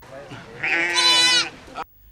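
A single sheep or goat from a small livestock herd kept in Kebbi State, Nigeria gives one clear, close bleat of about a second, with some rustling before it.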